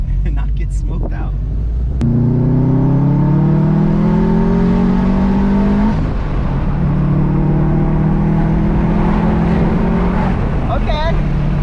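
Car with a newly installed engine on its first test drive, revving hard through gear changes with rising engine tones, loud and close from inside the cabin, with occasional voices over it.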